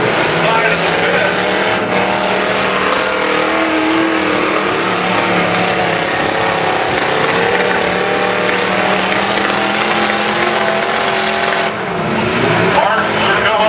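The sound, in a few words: demolition derby trucks ramming at Iowa county fair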